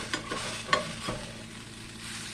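Fresh okra frying in a pan for Southern fried okra sizzles steadily up close, broken by a few sharp scrapes and clinks of stirring.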